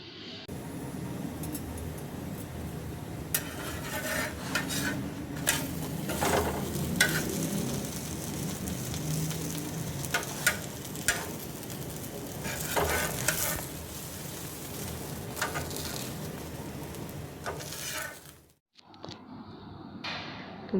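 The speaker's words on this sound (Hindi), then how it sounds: "इसको अच्छा से गोल्डन ब्राउन होने तक सेक लेंगे" A chicken cheese paratha fries in ghee on a flat pan, giving a steady close sizzle with occasional scraping and turning strokes throughout, then a brief dip near the end; no voices.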